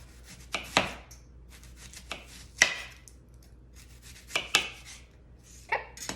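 A knife slices vegetables thin on a cutting board for sheet pan fajitas, giving a handful of crisp, close chops at uneven intervals with quiet pauses between, and no talking.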